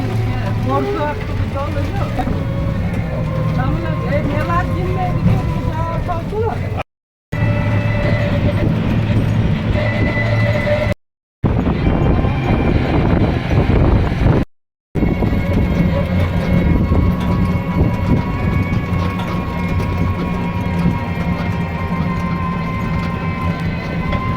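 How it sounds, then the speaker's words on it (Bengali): A train at Joychandi railway station rumbles and clatters steadily on the rails, loud and close for the whole stretch, with short breaks in the sound. "এই হচ্ছে জয়চন্ডী স্টেশন খুব সুন্দর স্টেশনটা"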